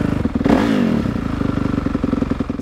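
Dirt bike engine in neutral, fitted with a Rekluse clutch, revved hard past 5,000 RPM in a loud, close burst that settles back into a rapid, clattering idle.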